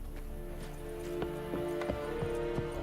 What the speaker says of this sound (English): Yeah, let's just go with the horse.